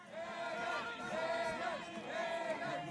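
Crowd in Zipaquirá, Colombia, celebrating cyclist Egan Bernal's Tour de France win, with repeated rising chants and cheers from many voices in a continuous, moderately distant roar.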